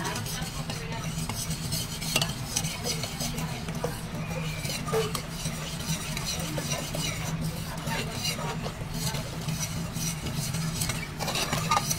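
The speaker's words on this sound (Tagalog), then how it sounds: "Haluin lang natin ito." A utensil stirs a creamy maja blanca mixture of milk, sugar and cream corn in a pot, scraping and clinking steadily and close for the whole stretch, with a faint low hum beneath.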